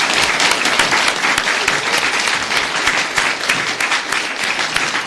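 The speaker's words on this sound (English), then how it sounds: "can we just give Theresa a big round of applause" An audience gives author Theresa Breslin a big round of applause at a book event, dense continuous clapping heard alone and close throughout.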